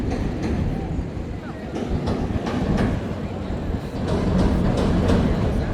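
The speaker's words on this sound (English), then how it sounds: "You also got a Green Line train passing overhead in front of us." A Chicago Green Line elevated train rumbles overhead beside the river, loud, close clickety-clack of wheels on the steel structure, heard from a boat on an architecture cruise with speech over it.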